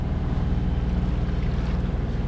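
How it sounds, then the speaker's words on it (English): A sailboat motoring under engine power on the Caribbean crossing from Iles des Saintes to Dominica, a steady low engine drone with rhythmic throb and water wash around the hull. "we ran out of wind, so we've had to put the engine on."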